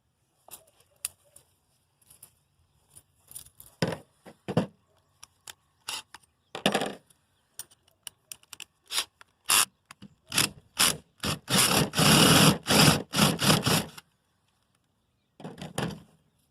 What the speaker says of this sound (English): I'm going to countersink it a little bit more